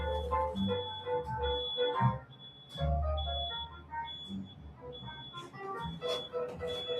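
Repeated electronic beeping, a steady high-pitched tone sounding in short bursts at a regular pace from outdoors, over low rumbling background noise.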